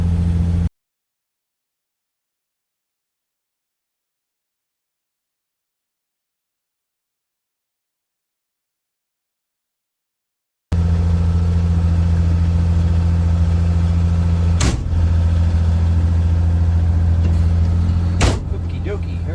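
A 1966 Land Rover NADA 109-inch with a six-cylinder engine runs at a steady, close, low drone after a long stretch of silence, with two sharp knocks near the end.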